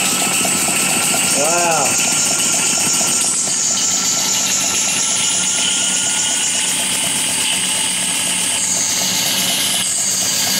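A Demon Dynamo steam engine runs at a water works with a loud, steady mechanical drone and rhythmic clatter throughout. A voice is heard briefly over it.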